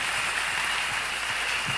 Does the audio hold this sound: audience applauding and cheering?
yes